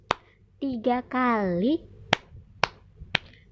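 A child's counting clap game brings a few sharp single claps, with sung and spoken voices in between and then three separate claps spaced evenly toward the end.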